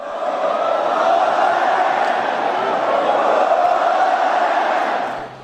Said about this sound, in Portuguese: Com 3-0, a torcida do Fla passou a gritar olé